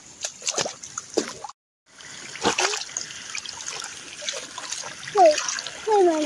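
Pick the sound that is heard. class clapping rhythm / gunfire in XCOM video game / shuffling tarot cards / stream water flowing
stream water flowing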